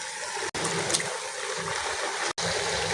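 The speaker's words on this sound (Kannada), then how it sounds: "ಲೋ ಫ್ಲೇಮಲ್ಲಿ ಇಟ್ಟು ಕರಿಯಬೇಕು." Square-cut shankarpali dough pieces deep-fry in hot oil over a low flame, a dense continuous bubbling hiss broken by two short gaps, with no speech.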